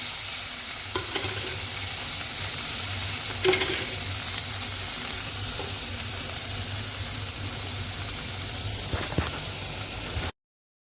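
Chopped garlic and tomato hiss steadily in hot oil in a pan. The even, moderate sizzle is broken by a few clinks and scrapes of stirring before it stops abruptly, and no one speaks.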